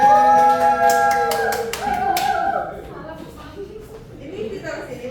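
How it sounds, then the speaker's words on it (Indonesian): Classroom applause for group 1 during a microteaching session, a few sharp claps mixed with children's voices and harmonic chatter, fading as talk continues. "Beri tepuk tangan untuk kelompok 1."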